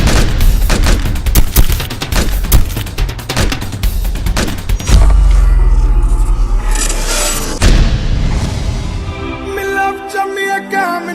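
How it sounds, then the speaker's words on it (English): Rapid gunfire in a gangster-themed video game, a dense burst of close automatic shots and heavy booms in the first half, then a deeper rumbling blast and scattered shots fading under lingering game sound. "Shots fired at Church and Troy Avenue."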